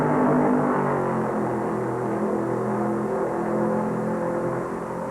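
NASCAR Grand National stock cars racing at Darlington Raceway in the 1970 Southern 500, a steady loud engine roar that swells and fades slightly as cars pass, heard alone without speech.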